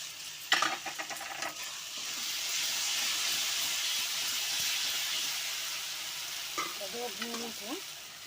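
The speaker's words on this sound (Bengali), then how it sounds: "বাটা মশলাটা দিয়ে দিলাম" A few clattering knocks, then a steady, fairly loud sizzle of a green chilli and white mustard spice paste frying in hot mustard oil for a fish curry, followed by more light scraping.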